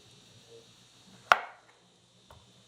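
A single sharp knife chop through a tomato on a cutting board, one clear thud with a short tail, followed later by a faint softer tap, in a quiet kitchen.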